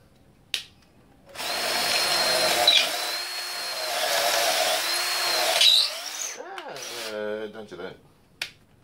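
A power drill whirs steadily for several seconds, its pitch dipping briefly under load, then winds down; a click sounds beforehand and a brief squeak follows. Heard during a Honda XL250 motorcycle restoration.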